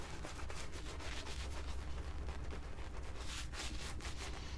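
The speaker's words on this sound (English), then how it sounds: "Yeah, this is lathering great." A shaving brush swirls over a tallow shaving soap, building lather with plenty of water; the wet, brushy rubbing runs steadily and fairly close throughout, with no talk.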